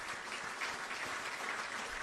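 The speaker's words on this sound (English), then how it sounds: "I believe we can do another big round of applause for His Excellency the President" Applause for the President at the swearing-in ceremony of Ghana's Chief Justice: a steady, dense patter of many hands clapping, fairly soft and distant, unbroken throughout.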